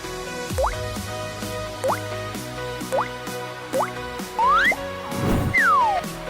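A series of playful, cartoonish video game water-drop plinks with rising pitch, about five in a row, followed by a soft splashy swirl, over light background music.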